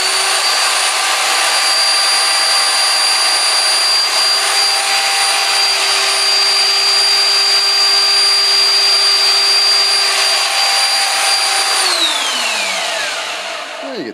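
A homemade tabletop belt sander runs alone at a steady, loud whine with a constant motor hum, then is switched off and spins down over the last two seconds.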